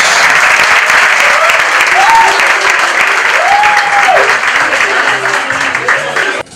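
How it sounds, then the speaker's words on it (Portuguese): Loud crowd applause at a party in Rio de Janeiro, dense clapping sustained for several seconds with a few voices calling out over it before it cuts off. "Aplausos!"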